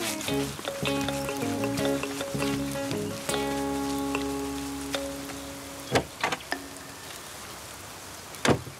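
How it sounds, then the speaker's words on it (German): Rain falls on an outdoor picnic, a soft hiss and patter of drops under cheerful cartoon music, with a few sharper drop sounds near the end. "Oh nein, es regnet."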